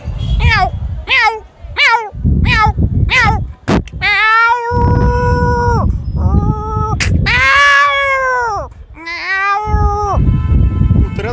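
A voice imitates a cat, giving a run of short meows followed by longer drawn-out yowls, loud and close.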